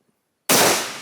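A single sharp, loud gunshot from a rifle firing to fire-form brass into a dirt berm cracks out of near silence, then rings on with a long, slowly decaying roar.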